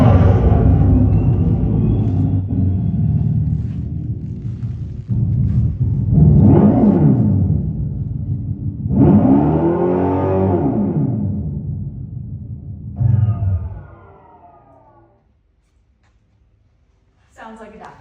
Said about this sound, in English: the Fratsonic chambered exhaust